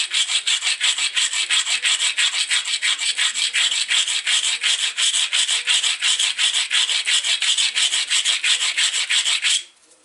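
Knapped flint point being ground along its edge: steady, rapid rasping strokes repeat evenly and close for about nine and a half seconds, then stop abruptly, with no talking.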